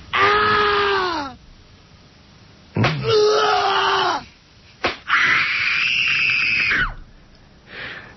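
People scream in a scream room, in several long, loud wails broken by sharp slaps or bangs, each scream rising and trailing off with near silence between them.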